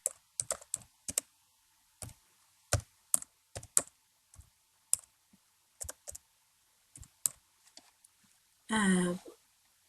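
Someone types on a computer keyboard in short scattered bursts of clicking keystrokes, close and fairly quiet, with pauses between bursts and a brief louder rustle near the end.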